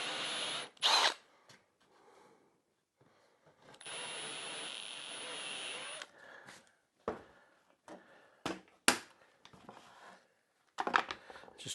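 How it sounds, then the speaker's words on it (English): Power drill boring down into a workbench top to seat a T-nut, short bursts of whining drilling separated by pauses, close and loud, with clunks and handling noises between. "when I drill down from the top, that'll make a nice little area that will fit into"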